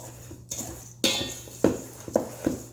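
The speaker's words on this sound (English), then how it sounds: "We're going to do our cocoa powder. And we're going to mix it real quick before we put any of our wet ingredients." A spoon clinks and scrapes against a bowl while cocoa powder and sugar are mixed dry, giving five or six sharp, close knocks in an uneven rhythm.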